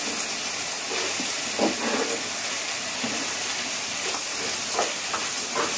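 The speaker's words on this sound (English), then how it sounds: "We are going to saute the zucchini for roughly 5 to 6 minutes" Sliced zucchini sautéing in a pan with capers and chopped black olives, a steady close sizzle and hiss carrying on throughout with a few soft bumps of stirring.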